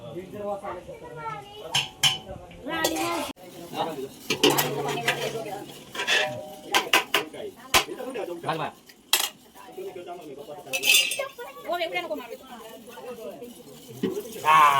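Pots and dishes clatter and scrape repeatedly as they are washed at a village fair, with metal clinks throughout and voices talking in the background.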